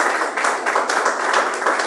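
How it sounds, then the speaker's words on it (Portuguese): A church congregation claps together after a sermon line, producing a short burst of continuous, fairly loud applause that carries through without a break. "Palmas para isso."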